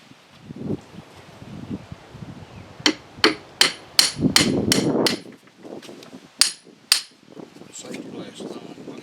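A hammer strikes metal during concrete work on a 1902 farmhouse renovation, a quick run of about seven sharp, ringing blows, then two more after a pause, with faint rustling between.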